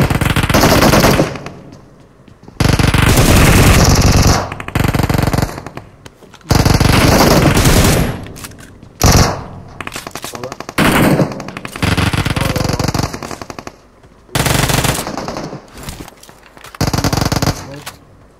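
A video game gun fight erupts in loud, close bursts of machine-gun fire, rapid volleys starting and stopping repeatedly with short gaps between them.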